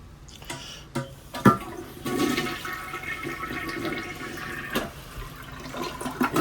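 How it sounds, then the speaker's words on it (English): A full residential toilet in an RV bathroom flushes and refills. A few sharp clunks come first, then a steady rushing and hissing of water. It is close and fairly quiet, and no one speaks over it. "got your full residential toilet filling up"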